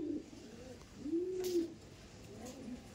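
Andhra pigeons cooing close by, with a few soft rising-and-falling coos over a quiet background and faint rustling.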